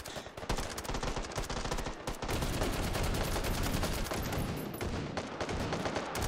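Sustained gunfire rattles nonstop in the virtual reality shooter Hot Dogs, Horseshoes & Hand Grenades, with dense overlapping shots and bursts at steady, close, loud volume throughout.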